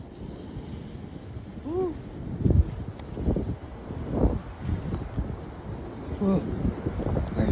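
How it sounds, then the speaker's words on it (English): Gusty wind blows through trees, buffeting the microphone with rushing, rumbling surges that rise and fall, while a person lets out a few brief exclamations. "There's wind."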